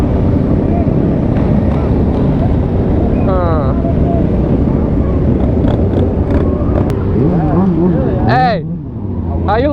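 Diesel vehicles in a large Miami rideout make a loud, steady rumble that fills the whole stretch, with rising engine tones and wind buffeting the microphone while people talk and shout nearby.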